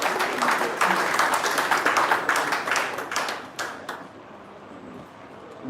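An audience breaks into a burst of clapping for a Vice President, dense and fairly loud applause that fades out over the last couple of seconds, with a faint voice under it.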